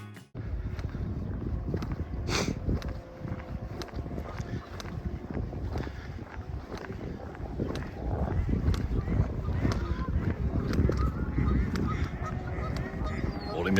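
A goose honks outdoors on a coastal hike between Mablethorpe and Skegness, the calls cutting through steady, loud wind rumble on the microphone for the whole stretch.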